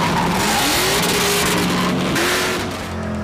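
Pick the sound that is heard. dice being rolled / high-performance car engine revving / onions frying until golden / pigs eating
high-performance car engine revving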